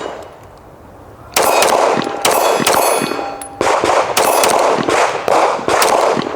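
A Girsan 2311 Match X pistol fires about seven sharp shots at 15 yards, each followed by a bright metallic clang from steel targets, loud and close in an irregular rhythm.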